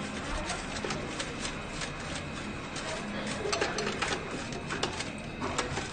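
A coin deposit machine takes in coins one by one, giving a steady mechanical whirring and clicking of rolling, sorting coins, close and continuous with no talk.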